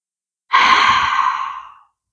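One long, airy exhale during a McKenzie back-pain exercise: a single close sigh-like breath of about a second and a half that trails off into silence.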